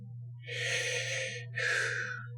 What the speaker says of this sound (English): He's breathing in through the sides of his mouth so that he can still hold that embouchure position